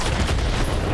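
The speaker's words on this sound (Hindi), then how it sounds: "जो टैंक उड़ा दिया मेरा" An explosion in Worms W.M.D blows up a tank, filling the second with a loud, dense, rumbling blast of noise.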